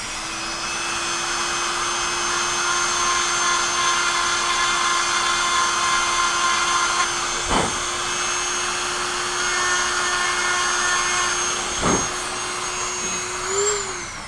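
A drill countersinking a screw hole: a steady, loud motor whine runs throughout, dipping briefly twice as the tool's load changes, with a slight pitch rise near the end.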